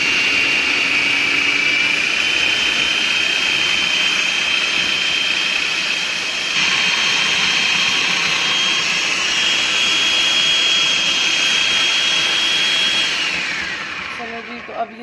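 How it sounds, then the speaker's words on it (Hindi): An electric food chopper whirs at high speed for a long stretch, grinding ginger, garlic, green chillies and two slices of bread, giving a loud, steady motor whine whose pitch shifts partway through before it winds down. "सबसे पहले चॉपर में मैं ये अदरक, लहसुन और हरी मिर्चें डाल दूँगी और ब्रेड के ये 2 स्लाइस डाल दूँगी और इनको चॉप करूँगी"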